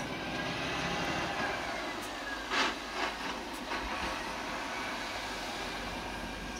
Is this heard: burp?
no